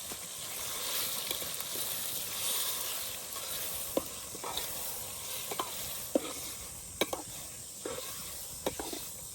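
Cooked chicken and basmati rice are stirred in a pot over a soft continuous sizzle, with a utensil scraping and clicking at irregular intervals, fairly quiet and without talk.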